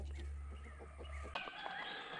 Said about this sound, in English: Sorry about the roosters and chickens. But I live on a farm and that's what's on a farm.